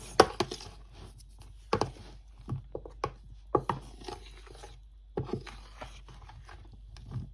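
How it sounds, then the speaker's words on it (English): Pieces of popcorn tofu are stirred through a cornflour coating in a bowl, giving sporadic soft scraping and knocking sounds in quiet, uneven bursts with pauses between. "mix it all together until fully coated again. So give it a good mix."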